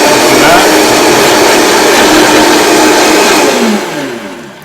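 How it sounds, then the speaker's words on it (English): A blender pureeing a sauce of raw and cooked shallots with parsley, a loud steady whirring motor that then winds down and slows toward the end. "And see how fast work that blender makes of it?"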